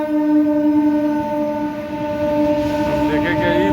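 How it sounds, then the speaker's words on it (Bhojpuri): Indian Railways train horn sounding at a station platform, steady and loud with layered tonal blasts, later joined by faint overlapping voices of waiting passengers. "ये ट्रेन तो आ गइल"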